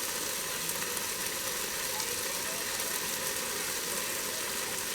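Hamburgers searing on the sear saute setting of a Ninja Speedi rapid cooker, giving a steady, even hiss of frying that holds without a break for the whole stretch.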